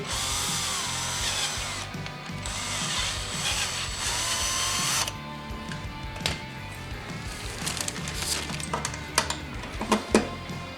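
A power drill whines loudly for several seconds, then stops, followed by scattered clicks, knocks and short bursts of drilling through a painted metal bracket on a snowmobile.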